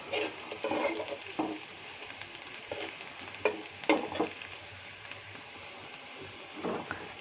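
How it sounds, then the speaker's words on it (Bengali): Two bay leaves and finely chopped onion fry in hot oil in a wok for palak paneer, giving a steady close sizzle with scattered stirring scrapes and louder crackles throughout. "কড়াইতে দিয়ে দিয়েছি তেল, এর মধ্যে দুটো তেজপাতা এবং ফাইনলি চপড কুচি করা পেঁয়াজ"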